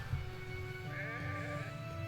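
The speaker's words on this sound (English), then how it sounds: "Oh, you are such a cute, adorable sheep." Cartoonish sheep bleating from the strategy game Renowned Explorers, a wavering tonal cry lasting about two seconds over a steady layer of game music.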